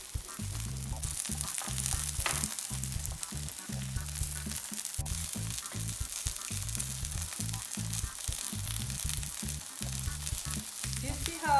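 Korean seafood pancake, haemul pajeon, sizzles loudly in a pan, a dense continuous frying hiss with a rhythmic low pulsing underneath, heard close up and without talk.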